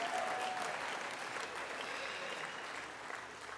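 Audience at an art directors' awards ceremony breaking into sustained applause, a dense, even wash of clapping from a large crowd that slowly tapers slightly toward the end.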